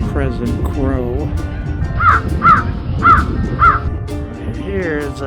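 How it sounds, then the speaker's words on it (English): A crow caws four times in an even series, fairly close and clear, along a Puget Sound beach at Lincoln Park, with a person speaking before and after the calls. "The ever-present crow."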